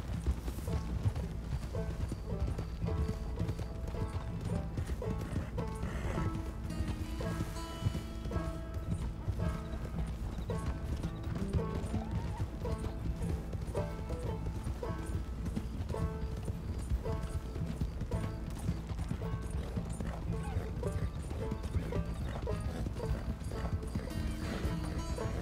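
Horse galloping in Red Dead Redemption 2, steady rapid clip-clop of hooves that continues throughout with a brief whinny, set under game music and ambience.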